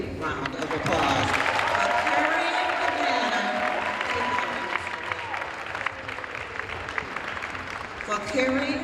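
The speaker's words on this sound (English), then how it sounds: "let's give Alpha Blackburn a great big round of applause" Gala audience at a scholarship fashion show applauding Alpha Blackburn with steady, full clapping and a few cheers, while a voice keeps speaking over the crowd throughout.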